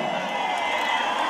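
A crowd at a Mexican jaripeo bullfighting event applauds and cheers, a dense, continuous roar of clapping and voices heard from within the stands, with a steady, even loudness.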